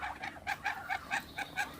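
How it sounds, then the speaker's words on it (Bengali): Chinese ducks on a farm give a rapid run of close, rhythmic honking calls, about eight quick bursts in under two seconds, with no talk over them. "আমি দেখাইতেছি আপনাদের এই হাঁসগুলো"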